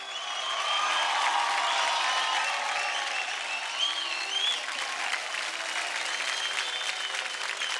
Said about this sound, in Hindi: एक बार जोरदार तालियों से इनका इस्तकबाल कीजिए।